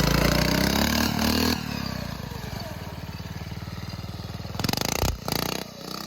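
A custom 18 hp drift kart engine fitted with a muffler from a 125 two-stroke roars close by: a loud rev at first, then a lower, rough, pulsing idle, with brief bursts of throttle near the end.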